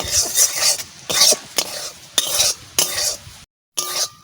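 Flour frying in a pan for sandesh is stirred in repeated scraping strokes, a rhythmic series of close, fairly loud scrapes with a brief pause near the end.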